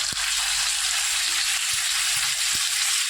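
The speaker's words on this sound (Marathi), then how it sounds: "आता आपण हे जे पापलेट ठेवलेले आहेत ते सोडून घेऊया" Pomfret fish frying in hot garlic oil, a loud steady sizzle throughout with a few faint knocks and soft cooking thumps, close by and without speech.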